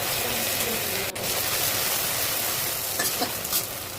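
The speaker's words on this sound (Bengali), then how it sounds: "এবার কড়াইতে সরিষার তেল দিয়ে সেদ্ধ করে রাখা ঢেঁড়স দিয়ে দেবেন।" Boiled okra sizzles steadily in mustard oil in a wok while being stirred, a continuous close frying hiss with light scraping touches and no voices.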